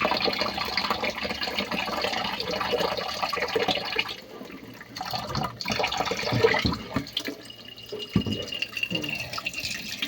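A three-year-old child washes dishes at a sink, with tap water running and splashing, clattering and dripping in uneven bursts and pauses, while adults talk quietly nearby.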